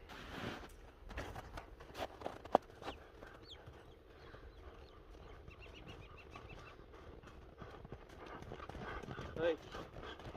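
A racing horse's hooves clip-clop unevenly at a steady walking pace, fairly faint against quiet outdoor ambience, with a few louder knocks, occasional bird calls, and people talking intermittently nearby.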